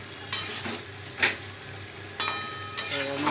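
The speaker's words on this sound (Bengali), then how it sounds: "আমি এবার নেড়ে নেবো" A spoon stirs potato and soybean curry in a pan, giving four separate scraping clatters against the metal over a soft, quiet sizzle.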